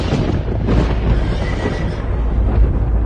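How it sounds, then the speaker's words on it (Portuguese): Horses neigh and whinny as a sound effect in a dramatized Bible audio story, with loud, layered calls and faint hoof clatter over a deep rumble, without any talking. "e viu que ao redor de Eliseu o morro estava coberto de cavalos e carros de fogo."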